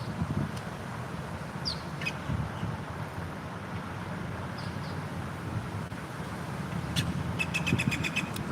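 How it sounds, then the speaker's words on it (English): Faint bird chirps and a quick trilling call come through over steady wind and outdoor rumble. "Love to hear these birds"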